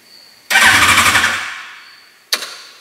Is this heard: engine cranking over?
yes